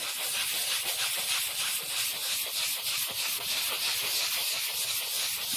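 Sandpaper rubs back and forth over painted furniture to distress the finish, a steady, soft, hissing scrape with a rhythmic pulse of strokes.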